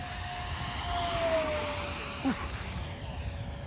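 Radio-controlled SR-71 model jet passing at full throttle, a high turbine whine that rises and falls in pitch as it flies by at moderate distance, with no talking.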